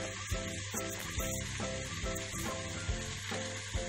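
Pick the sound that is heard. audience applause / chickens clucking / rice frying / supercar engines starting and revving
rice frying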